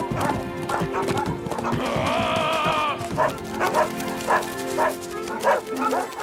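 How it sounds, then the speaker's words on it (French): Cartoon dogs bark in quick yapping bursts over horse hoofbeats and a whinny, with lively background music and some voices mixed in. "Oh non, pas les chiens!"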